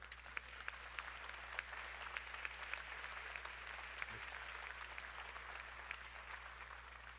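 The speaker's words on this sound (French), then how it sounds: "J'ai bien envie qu'on les applaudisse, ces 900 personnes" Steady applause from an audience at a New Year's wishes ceremony in Cavalaire, honouring some 900 volunteers, fills the hall as a dense, even wash of clapping that holds throughout without speech.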